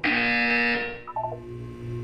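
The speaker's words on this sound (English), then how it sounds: "You will hear a buzzer." A loud electronic buzzer tone sounds in Portal 2, a harsh sustained blare that cuts off after about a second, followed by lower mechanical hums and tones.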